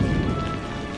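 Heavy rain pours down in a dense, loud rush with a low rumble underneath, easing slightly toward the end; no one speaks.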